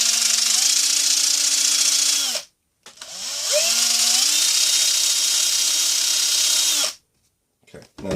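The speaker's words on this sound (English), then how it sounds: "now I can use my sander without hitting anything and just kind of deburr that while it's holding it in place" Power sander whining in two sustained runs with a short pause between, deburring a metal part of a Pathfinder bushcraft knife kit while it is clamped in place; loud, steady and close, alone without talk.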